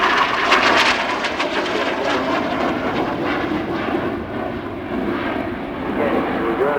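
Aerobatic aircraft engine roaring steadily overhead at the Farnborough Airshow public day, a continuous loud drone with a commentator talking over it throughout.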